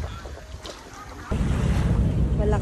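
Strong water rushing and slapping against a boat, a steady broadband wash that jumps louder midway and stays loud, with wind buffeting the microphone and faint voices earlier.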